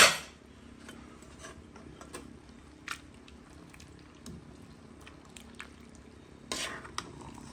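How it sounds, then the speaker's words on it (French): A spoon stirs a potato and chayote gratin mixture in a pan, with soft scraping and sparse clinks and taps against the cookware, mostly quiet with a few sharper knocks. "Je tourne un peu cette composition"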